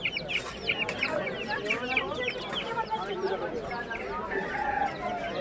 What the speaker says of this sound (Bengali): আর এই যে মুরগির বাচ্চাগুলো ছোটগুলো একদম কত?